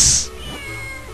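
Cartoonish cat meow from the Legend of Zelda: The Minish Cap video game, a single loud, high-pitched cry that fades into quieter game background sound.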